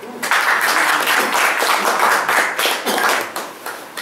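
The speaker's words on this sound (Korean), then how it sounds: "여러분을 위해서 박수." Concert audience applauding at a small indoor show, dense continuous clapping from many hands, moderately loud and steady for several seconds.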